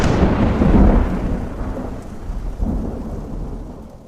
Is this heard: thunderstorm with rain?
yes